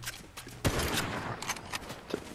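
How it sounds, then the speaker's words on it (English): Fortnite gunfire crackling at low volume in a quick scattered burst of shots, faint and somewhat muffled, with no talk over it. "I'll try, but they're shooting at me."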